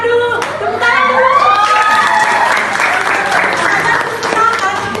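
Classroom applause from students, a dense sustained clapping with children's voices and chatter mixed in, loud and close throughout.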